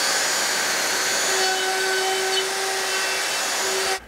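A Festool Domino DF 500 joiner bores through a wooden workpiece with a steady, loud, high whine and an even whirring tone, cutting off sharply near the end.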